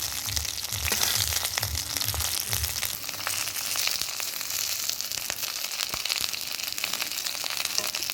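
Arbi (taro) leaves fry in a pan with a continuous close crackling sizzle, dense with small pops and a few sharper crackles throughout, with no voices.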